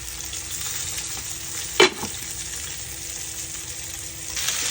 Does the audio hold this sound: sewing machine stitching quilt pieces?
no